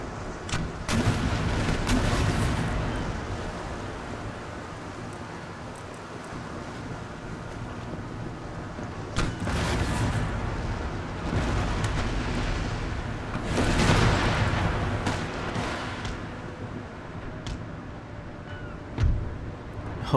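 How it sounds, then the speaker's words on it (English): Ship cannons fire broadsides in Empire: Total War during a naval battle, heavy booming volleys rolling out in several bursts over a constant windy sea rumble, with no talk. "Give them a good broadside."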